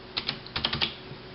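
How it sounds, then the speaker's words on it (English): A few quick keystrokes on a wireless KBtalKing Pro mechanical keyboard with Cherry MX Blue switches, sharp clicky taps in a short close burst, then quiet. "let's say I'm typing a paper here"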